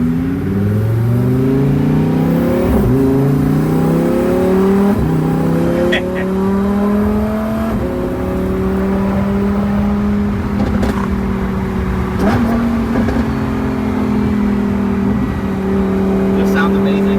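A 2020 Lamborghini Huracan Evo's V10 engine revs hard while driving, climbing through several gears with a sharp drop in pitch at each shift, then settling into a loud, steady, high-pitched wail up close.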